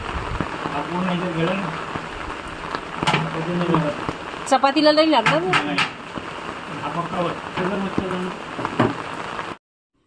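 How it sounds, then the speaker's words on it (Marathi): Heavy rain drums steadily outside a village home, a dense, loud hiss that runs the whole time under close conversation between several people. "मी इकडे आल्यानंतर पाऊस जास्त जोरात यायला लागला"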